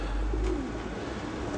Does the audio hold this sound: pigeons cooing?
yes